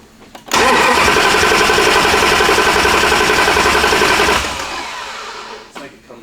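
Hellcat-swapped 1972 Dodge Demon cranking and firing up, a loud rough engine roar that holds steady for about four seconds, then drops to a quieter idle before cutting out, with a voice heard near the end.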